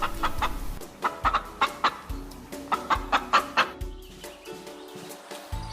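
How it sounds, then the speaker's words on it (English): A hen clucks in a quick series of short, sharp calls, some grouped in pairs or triplets, loud and close with brief pauses between bursts and no other sounds around them. "hen."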